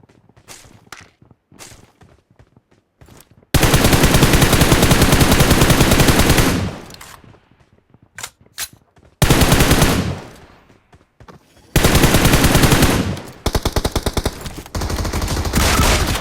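Automatic gunfire from the battle royale game BGMI comes in three long, loud sustained bursts, separated by quieter stretches of footsteps, scattered single shots and small clicks, with no talking over the shooting.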